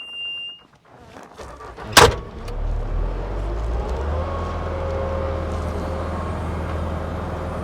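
A 2016 Bobcat T770 rubber-track skid steer loader with cab, heat and air, and joystick controls: a sharp clunk, then the diesel engine settling into a steady, loud, close low rumble that holds to the end, with no talk.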